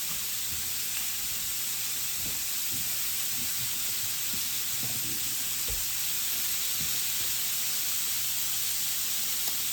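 Onions sizzle steadily on a new grill, a dense continuous hiss of frying with faint crackles and pops scattered through it, close and unbroken with no talking.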